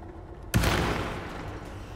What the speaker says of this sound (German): Seit wann brauche ich da mehrere Schüsse?